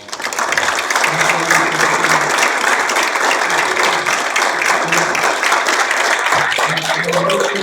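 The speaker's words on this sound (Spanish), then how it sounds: "Le demos un fuerte aplauso" An audience at a university lecture about climbing Monte Sarmiento breaks into sustained, dense applause that fills the room steadily for several seconds, with faint voices underneath.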